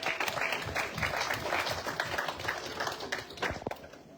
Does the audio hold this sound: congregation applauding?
yes